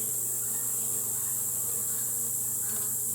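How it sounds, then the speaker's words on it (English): Honey bees in an opened backyard hive during an inspection hum in a steady, close, continuous drone, with a few individual bees buzzing louder now and then. "there's definitely bees in here"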